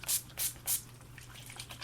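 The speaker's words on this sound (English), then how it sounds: "I'm using this NYX Matte Finish Spray in my 7 Summer Flings" A NYX Matte Finish setting spray gives three quick, soft misting bursts close up, followed by fainter hissing puffs, with no talking.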